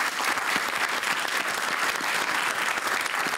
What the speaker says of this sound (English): Give yourselves a clap as well